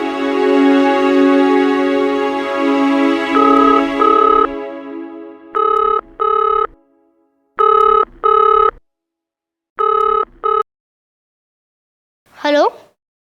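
A landline telephone gives a sustained tone, then rings in repeated paired bursts separated by silent gaps, loud and close. A brief voice is heard at the end.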